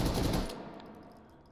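A rapid full-auto burst of video-game gunfire, loud and close for about half a second, then cut off into a fading ringing tail with no voices.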